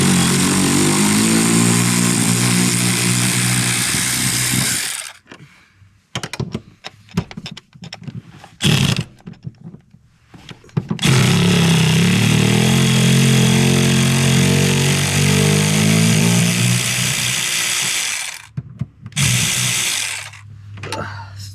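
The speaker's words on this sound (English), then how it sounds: "I'm going to finish taking them out with the electric wrench." An electric wrench spins out seat bolts on a 2024 Jeep Wagoneer in loud, whirring bursts: a long run, a series of short stuttering pulses, then another long sustained run and a final brief burst, up close.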